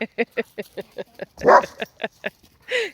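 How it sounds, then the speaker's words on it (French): A dog gives a run of short, rapid yips and barks in a quick rhythm, close by, with a louder burst in the middle and a person speaking briefly near the end. "Il est bête, ce chien."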